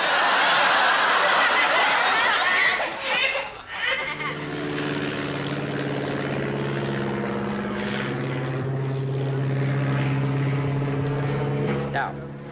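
A propeller aircraft drones steadily overhead in a wartime comedy scene in an open field, its low engine hum holding loud and continuous for most of the stretch, with muffled voices and chuckling over the top early on.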